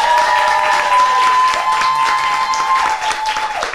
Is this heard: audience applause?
yes